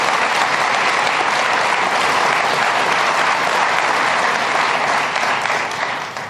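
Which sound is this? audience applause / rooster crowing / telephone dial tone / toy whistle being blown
audience applause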